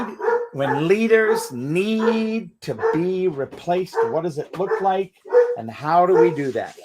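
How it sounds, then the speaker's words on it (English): Dogs bark and yip in the background of a home while a person speaks continuously over them. "And pardon the dogs in the background."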